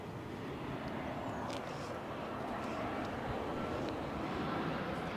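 A Lufthansa airliner from Frankfurt arriving at Barcelona El Prat airport near runway 24, a steady broadband engine roar that fills the whole stretch at an even, moderate level, with faint wind noise and a few brief higher tones.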